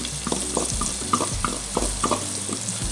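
Onions frying in olive oil in a pan for a lasagne sauce, with a steady close sizzle broken by scattered crackles and a few light stirring knocks.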